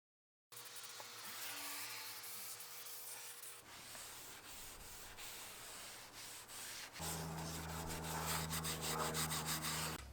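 Steady, continuous abrasive rubbing of sandpaper scuffing car paint, close up and fairly loud, with a low machine hum underneath that grows heavier partway through.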